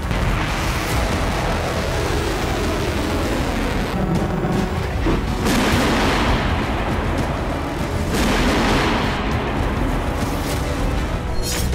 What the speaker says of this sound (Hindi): कीव में एयर डिफेंस सुबह से ही एक्टिव है और कई धमाके अब तक सुने जा चुके हैं।